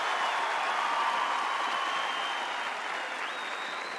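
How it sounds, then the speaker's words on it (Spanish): A large audience at the 2015 Viña del Mar festival applauds a comedian with dense, steady clapping that holds at full strength throughout, with no voices over it. "Me hace bien escuchar esos aplausos"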